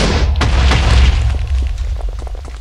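Nuke detonation in the Minecraft mod Thaumcraft 3, a loud, deep booming explosion with crackling debris that rumbles on and slowly fades over a couple of seconds, with no one talking.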